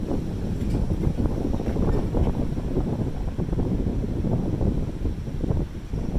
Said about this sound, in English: where the wind is howling